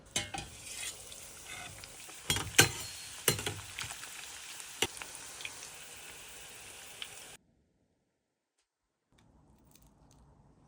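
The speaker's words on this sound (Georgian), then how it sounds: "ამოვავლოთ ჯერ კვერცხში, შემდეგ საფანელში და შევწვათ ბლომად ზეთში" Arancini rice balls deep-frying in plenty of oil crackle and pop in sharp bursts over a bubbling sizzle, then the sound cuts to near silence with only faint noise at the end.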